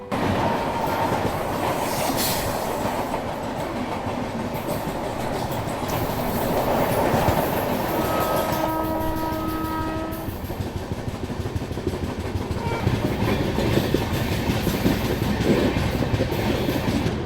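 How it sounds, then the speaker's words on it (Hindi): Telangana Express passenger train running on rails behind the Bangalore Rajdhani, a steady continuous rumble and rail noise with brief high wheel squeal tones midway, heard close and alone. "और ये बेंगलोर राजधानी के पीछे पीछे जाने वाली तेलंगाना एक्सप्रेस है।"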